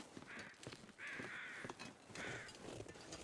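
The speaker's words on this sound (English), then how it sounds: "I hear crows. Oh, they're flying." Three hoarse crow caws ring out in the survival video game The Long Dark, moderately distant, over a steady bed of wind and rustling noise.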